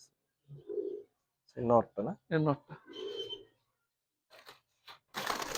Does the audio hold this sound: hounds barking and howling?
no